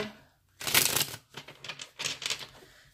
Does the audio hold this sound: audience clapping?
no